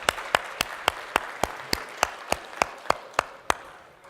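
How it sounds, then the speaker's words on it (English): An audience claps for a group of women, giving about fourteen slow, evenly spaced, sharp claps that ring out clearly in a quiet room. "Let's give these women a round of applause"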